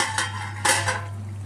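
Country chicken curry being stirred in a pot, with a few short clinks and scrapes of a utensil against the metal over a steady low hum, no talking.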